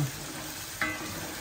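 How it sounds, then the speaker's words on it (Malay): Red chili paste sautés in hot oil for sambal goreng, a steady close sizzle with a brief stirring scrape partway through. "tumis sampai pecah minyak."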